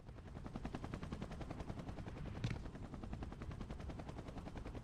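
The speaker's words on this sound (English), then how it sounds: "you hear those helicopter blades?" Helicopter blades in the Spider-Man 2 video game on PS2, heard as a fast, steady, rattling chop that repeats without pause throughout, fairly loud and even, with one brief brighter burst midway and no talk.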